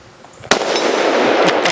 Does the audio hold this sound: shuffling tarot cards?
no